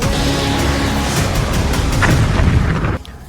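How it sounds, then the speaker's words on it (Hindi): A loud, sustained rumbling blast from strikes in Lebanon, dense and booming throughout before cutting off abruptly near the end. "लेबनान में तेज धमाके की आवाज गूंज रही है।"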